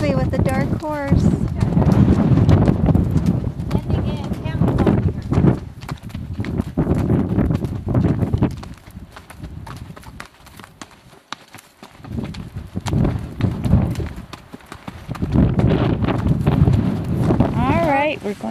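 A horse walks a trail in Escalante Canyon with a steady clip-clop of hooves on rocky ground, close by, with wind buffeting the microphone and a person talking over it throughout.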